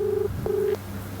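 A phone is dialed by hand: two short keypad tones beep in quick succession over faint outdoor background noise near a paddy field.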